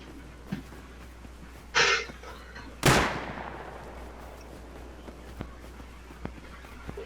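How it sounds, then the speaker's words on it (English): Gunfire in the survival video game Rust: two sharp, loud shots about a second apart, the second with a longer decaying crack, standing out over a quiet background with faint scattered clicks. "The bullet is so loud."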